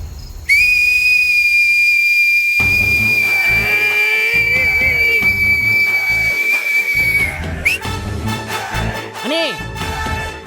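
A loud, sustained shrill whistle blown for several seconds, ending abruptly, followed by voices talking and a couple of short rising squeals.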